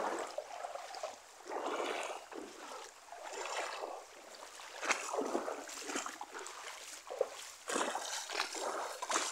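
Clear, unspoiled river in a natural rural setting, its water rushing and splashing in a steady, close, fairly loud wash with gentle swells and no voices.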